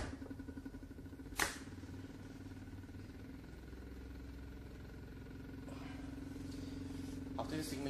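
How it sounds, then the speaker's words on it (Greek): A battery-powered pulse motor, fed about 25.8 V from cells in series and drawing roughly 17.5 A, starts with one sharp click and then settles into a steady, continuous humming drone. "Θα ξεκινήσουμε λοιπόν τώρα το κινητήρα"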